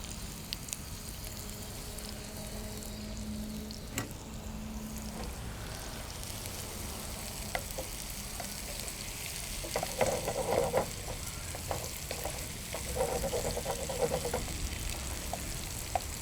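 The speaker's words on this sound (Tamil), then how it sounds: "கொஞ்சம் சாப் கொரியாண்டர் எல்லாம் போட்டு நல்லா டாஸ் பண்ணுங்க." Chopped vegetables and coriander tossed in a frying pan with salt for an omelette-style egg preparation, a steady sizzle punctuated by scattered spatula scrapes and clatters, louder toward the end.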